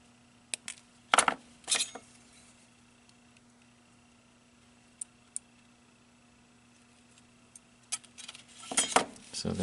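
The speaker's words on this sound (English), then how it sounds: "I'm going to trim this and bend it in." Trimming an LED lead with small cutters on a Pro Mini component stack gives a few sharp, close metallic snips and clicks, with scattered light ticks and a quiet steady hum between them.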